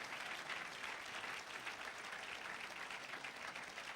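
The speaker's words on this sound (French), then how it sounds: "Vous pouvez tous les applaudir" Steady applause from a large audience at an awards ceremony, dense and continuous clapping at an even level throughout, with no talking over it.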